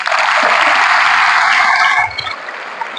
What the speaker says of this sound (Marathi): त्यासाठी टाळ्या वाजवा